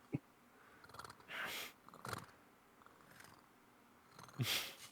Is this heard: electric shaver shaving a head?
no